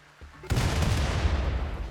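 A volley of mortar fire in a colony-building strategy game: a sharp boom at about half a second gives way to a sustained, dense rumble of overlapping blasts that continues to the end, with no talk.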